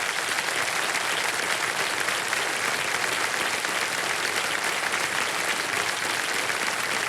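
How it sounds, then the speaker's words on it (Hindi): Studio audience applause on the KBC quiz show: dense, steady clapping from a large crowd that holds at an even level from start to finish. "तालियां बज जाए इनके लिए।"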